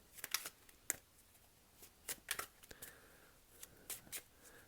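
Tarot cards shuffled by hand in a quiet room, a few soft riffles and crisp flicks scattered unevenly over several seconds, close and faint with no talking.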